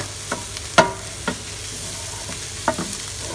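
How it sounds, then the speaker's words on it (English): A crustless quiche mixture is stirred through in a pan, with several distinct scraping and clacking strokes over a low background sizzle. Nobody speaks. "Stir that all the way through."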